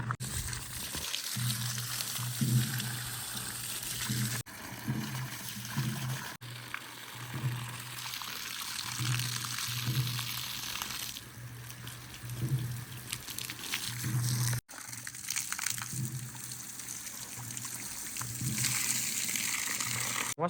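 A water pump motor runs while water flows out to water the plants in strong sun. A steady low motor hum sits under a continuous rushing, splashing stream, with a few brief dips.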